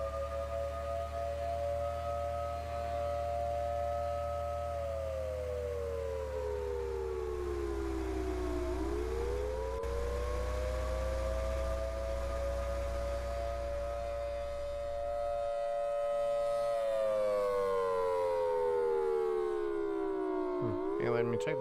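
A civil defense siren in the Roblox game Twisted wails continuously, its tone sliding down, rising again, then falling over a deep rumbling wind-like bed, loud and sustained with a voice occasionally speaking over it.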